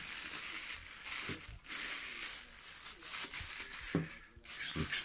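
A plastic bag holding a 2-inch Explore Scientific Maxvision 68° 40mm eyepiece crinkles and crackles as it is worked open, with bursts of rustling and a few sharp snaps, close by and continuing throughout.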